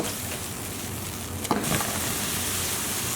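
Crushed garlic cloves sizzling with onions in a pan for spaghetti and meatballs sauce, a steady close frying hiss with a brief clatter midway as the garlic goes in, no talking.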